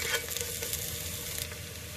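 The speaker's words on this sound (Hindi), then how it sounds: "अब मैंने एक छोटा प्याज काट कर डाल दिया है, इसे हम थोड़ा सौते करेंगे।" Chopped onion sautés in a pan for mint rice, giving a faint, steady sizzle with a light crackle and no voices.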